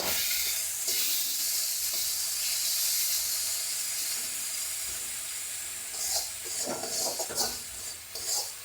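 A fried spice mixture with tomato being stirred in a pan for bata mouri, giving a soft steady hiss and sizzle, with scraping stirs and clinks toward the end, close by and fairly quiet.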